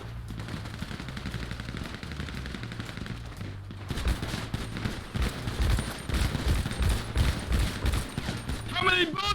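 Rapid bursts of automatic gunfire from a first-person shooter, loud and dense, continuing across the clip with brief pauses, while a player talks over it and a short music sting closes it.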